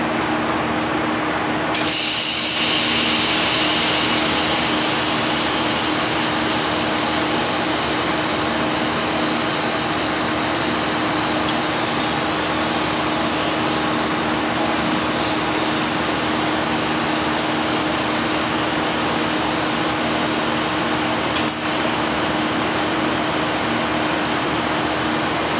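Arc welding on a broken metal housing, a loud, continuous crackling buzz with a steady hum that starts abruptly and runs unbroken, alone without talk.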